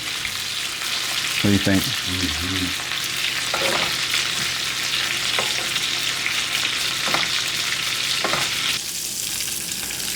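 Sirloin steak sizzles steadily in a hot pan, with a loud, constant hiss and faint scraping from a flip, while a voice briefly talks over it.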